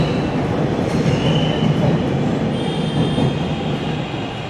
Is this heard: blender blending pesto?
no